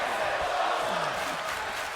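Arena crowd in the WWE 2K wrestling video game during a match, a steady dense roar of cheering throughout, with faint commentary voices mixed in.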